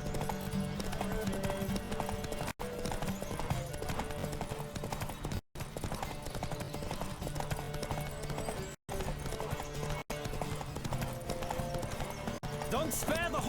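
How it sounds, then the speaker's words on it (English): Horse galloping in a race in The Witcher 3, a dense, continuous rhythm of hoofbeats with an occasional whinny, heard under game voices and music. "Don't spare the horse!"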